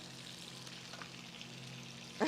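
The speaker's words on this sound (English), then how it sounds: "So sausages are frying." A steady, soft sizzle of sausages frying in a pan, close and continuous, with a low hum underneath.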